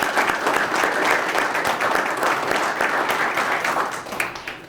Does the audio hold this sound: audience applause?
yes